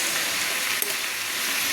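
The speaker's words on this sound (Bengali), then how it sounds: "এইভাবে আমি আস্তে আস্তে করে কফিগুলো সুন্দর করে নেড়ে নিচ্ছি" Cabbage being stirred in a hot pan with fish head, giving a steady bright sizzle and frying hiss with one soft scrape partway through, close and continuous.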